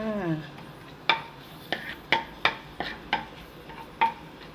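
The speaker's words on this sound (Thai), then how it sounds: "แล้วเจียวกระเทียม หรือผัดกระเทียม ผัดให้มันสุกหน่อยเนาะหอมหน่อย" Chopped garlic stir-fried in hot oil in a pan, heard as a series of about eight distinct metallic scrapes and clinks of a utensil against the pan at a steady pace over faint sizzling.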